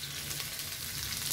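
Shallots and green chilli sautéing in a pan for kuzhi paniyaram: a short, even, continuous sizzle heard close up, without talk.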